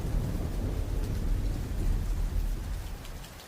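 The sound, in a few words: thunderstorm and rain sound effect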